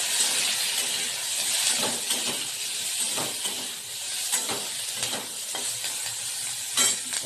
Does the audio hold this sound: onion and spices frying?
yes